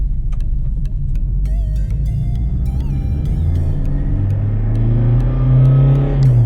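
A 2013 Toyota Fortuner VNT diesel engine revs and accelerates, a loud, close rumble climbing steadily in pitch toward the end, with faint clicks near the start.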